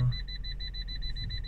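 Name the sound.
Fiat 500 parking sensor beeping while reversing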